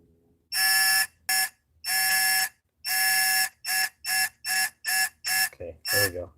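A digital torque wrench beeps while torquing a cylinder head bolt to 75 degrees on a GM 4.3L V6 in a 96-05 Chevy Astro, a loud piercing series of about ten tones of uneven length, ending in a brief burst of voice.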